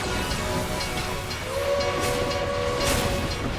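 A train rushes past in the Final Fantasy XIV Rival Wings battle, a steady loud rumble with a sustained horn tone sounding through the middle and end.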